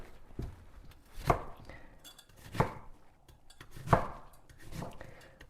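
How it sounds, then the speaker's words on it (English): A kitchen knife slices through an onion from root to tip on a cutting board, giving a few distinct, close chopping knocks spaced about a second apart, with no talking. "Helps to reduce the burning if you slice from root to tip, or root to green."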